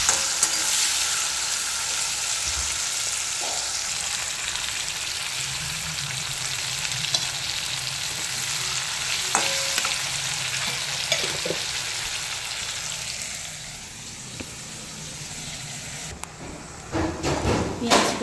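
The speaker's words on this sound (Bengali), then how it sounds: "পেঁয়াজগুলো আমি ভালো করে ভেজে নিই, একটু হালকা লাল লাল করে ভেজে নিই" Onions frying in hot oil until lightly browned give a continuous crackling sizzle with occasional stirring clicks, close up, quieting briefly before louder clatter at the end.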